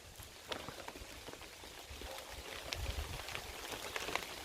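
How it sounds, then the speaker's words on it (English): Rain begins falling at an outdoor camp with a basic shelter, scattered soft patters and droplet ticks over a quiet background, growing slightly denser toward the end. "that's the rain coming on again"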